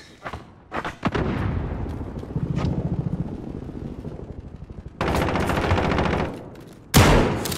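Automatic gunfire from the video game Modern Warfare: rapid, loud machine-gun bursts that roll on almost without a break, with a sharp new burst near the end.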